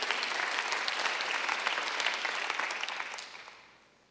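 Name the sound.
congregation applauding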